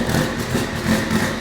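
A Honda Civic Type R engine idles close and loud with a steady, slightly pulsing low rumble, running smoothly after its spark plugs were cleaned.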